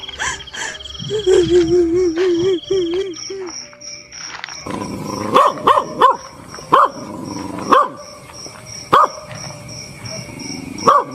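A dog barks repeatedly at night in the woods, with sharp loud barks coming in an irregular rhythm after a stretch of whining, howl-like calls and other animal noises.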